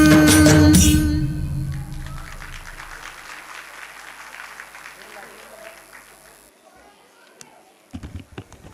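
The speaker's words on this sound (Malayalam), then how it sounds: "ഓഡിയൻസ് കയ്യടി പോരാ" An audience claps for a cute dance by young girls at a foundation and Women's Day program. A short burst of applause starts loud, then thins and fades, and a voice speaks near the end.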